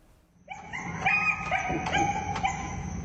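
A dog stranded on a building yips, whimpers and barks in a rapid string of high, strained cries, fairly close, over a low background rumble.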